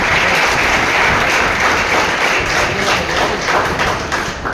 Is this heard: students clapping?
yes